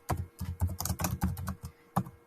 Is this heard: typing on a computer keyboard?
yes